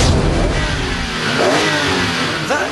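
A BMW Z4M with a 3.2-litre straight-six from the M3 CSL revving hard, a loud, dense engine roar close by with a brief pitch sweep near the end, no voices.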